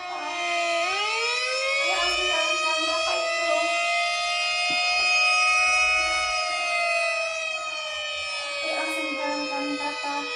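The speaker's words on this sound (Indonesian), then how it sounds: "Ini coba Rada dengarkan ya bunyi sirinenya." A long, steady emergency siren wails with a sustained, slightly rising tone and rich harmonics, holding loudly for about ten seconds, with faint low rumbles beneath it.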